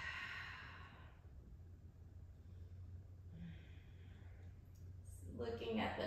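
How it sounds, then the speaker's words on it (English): A person exhales a slow cleansing breath during a yoga session, a soft airy sigh at the start followed by a quieter room hush, with another breathy exhale near the end. "Let's take a cleansing breath together."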